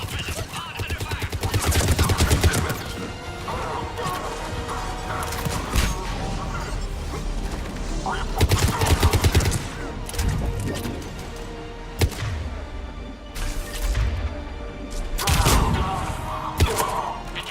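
Rapid automatic gunfire and explosive bursts rattle through a battle in the video game Mass Effect 3, loud and sustained with heavier volleys, while radio-style game voices speak over the action.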